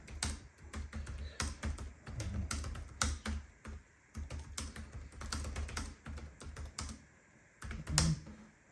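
Rapid typing on the keyboard of an Acer TravelMate P238-M laptop, a dense run of close, crisp key clicks with brief pauses and a louder burst near the end, no talking over it.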